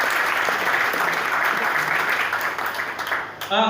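An audience breaks into loud, continuous clapping as guests Manoj and Sanjay are welcomed on stage at a motivational talk, steady and dense throughout, with a voice starting at the very end.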